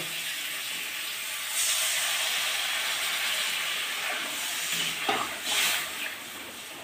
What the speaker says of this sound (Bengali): এই সময় জল দিয়ে দেবো।